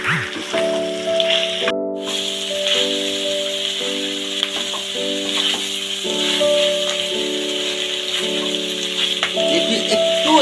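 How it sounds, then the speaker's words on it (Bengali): Ginger-garlic paste sizzles steadily as it is stirred and fried in a pan while cooking chili jackfruit, a continuous frying hiss with a faint steady hum underneath and no talking. "এবার যতক্ষণ না আদা রসুন পেস্টটা গন্ধটা যাচ্ছে ততক্ষণ এর সাথে একটু নাড়িয়ে নেব"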